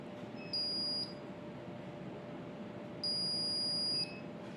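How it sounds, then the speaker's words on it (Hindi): Buzzer of an Arduino smoke detector built with an MQ-2 gas sensor, triggered by incense smoke, beeps twice as steady high-pitched tones of about half a second and one second over a constant fan hum. "ये रेड एलईडी अपना जलेगा और उसके साथ साथ बजर भी बजेगा"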